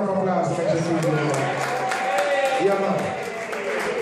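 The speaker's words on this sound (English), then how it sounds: "Give her another round of applause." Live concert audience at Rocabessa applauding and cheering after a performance, a steady dense wash of clapping with crowd voices and tonal music or singing running underneath throughout.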